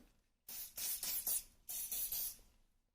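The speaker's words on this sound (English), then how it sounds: "using my hairspray, I'm going to make this really strong" Hairspray aerosol sprayed onto a fishtail plait in two close bursts, each a loud hissing spray of a few pulses separated by a short pause.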